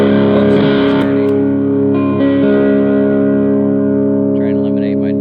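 A vintage 1960s Kay Vanguard single-pickup electric guitar rings out with a dirty, distorted sustained chord that holds steady and loud, as someone briefly talks over it.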